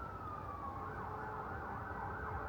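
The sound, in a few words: sirens going off in the background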